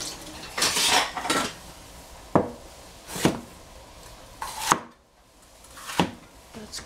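Capsicum is chopped on a cutting board, a run of sharp, separate knife strikes, a few quick ones then slower single chops, close and clear with no talking.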